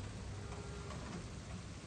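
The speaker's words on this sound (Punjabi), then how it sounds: "ਖੈਰ ਦੀ ਬਾਰਿਸ਼ ਤੇਜ਼ ਹੋ ਗਈ ਹੈ" Rain falls steadily and heavily outdoors, a continuous hiss of drops hitting surfaces at a faint, even level throughout.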